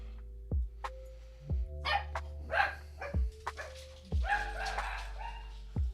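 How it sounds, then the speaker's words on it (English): Several pet dogs barking indoors in repeated loud, sharp barks, some yips mixed in, with short pauses between bursts and a steady hum underneath. "my dogs didn't expect her home either"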